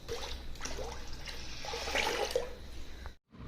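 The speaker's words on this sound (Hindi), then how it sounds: "तो अभी इसमें पानी शामिल करेंगे।" Water pours into a pot of washed lentils for dal mash, a continuous splashing, gurgling stream that is fairly quiet and steady and then stops abruptly near the end.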